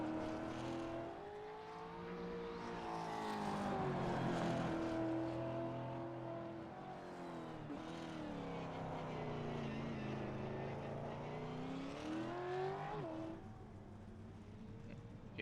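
Race car engines from the iRacing sim at Long Beach wail and rise and fall in pitch as cars accelerate and shift, a steady layered drone of several engines filling the track, no voices.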